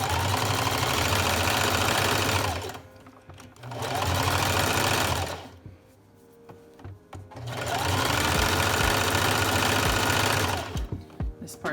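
A sewing machine zigzag-stitches baby pants in three long, steady runs with its motor humming and needle clattering, separated by short pauses with soft handling noises.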